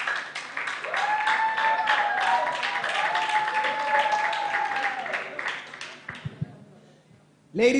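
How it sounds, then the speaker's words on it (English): An audience at an expo grand finale applauds a panel team, steady clapping under an emcee's voice, tapering off toward the end. "One more round of applause."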